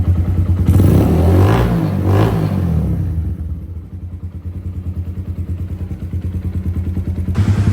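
Suzuki GSX motorcycle engine after tuning, a loud rev at the start easing into a steady, throbbing idle rumble that swells slightly again at the end.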